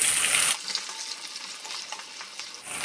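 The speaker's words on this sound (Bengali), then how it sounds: "আর গোটা জিরে এবার দিয়ে দেবো পেঁয়াজ কুচি" Chopped onions sizzle loudly in hot oil with whole cumin seeds, the initial hiss settling into a steady crackling fry with scattered pops.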